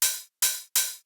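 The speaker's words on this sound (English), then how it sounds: "this hi-hat coming in" An old school hi-hat sample struck three times in an even rhythm, each hit a bright, crisp burst that fades over about a quarter second, loud and alone.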